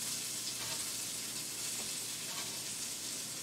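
Bacon frying in bacon grease in a pan, a steady, fairly quiet crackling sizzle with a few faint pops throughout.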